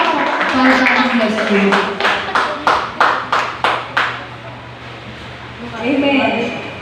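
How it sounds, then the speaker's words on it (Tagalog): A congregation claps in a run of sharp, evenly spaced beats during a testimony portion of a church service, with voices speaking before and after. "malakas na palakpak po para sa ating Diyos"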